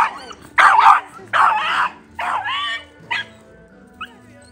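An aggressive dog barks in close, loud bursts, four sharp barks at irregular spacing, then a short yip and a faint final sound as the barking tapers off.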